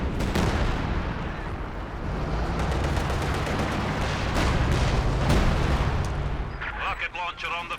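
Soviet mortar firing in Company of Heroes 2, thudding launches and booming impacts over a constant rumble of battle, loud and dense, with a voice talking toward the end.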